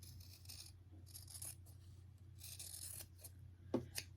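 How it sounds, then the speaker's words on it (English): Scissors cut through quilt fabric a quarter inch from a sewn seam, giving quiet crisp snips and rasping slides in short bursts over a low hum, with a small clink near the end. "Now we're going to cut 1/4 inch away."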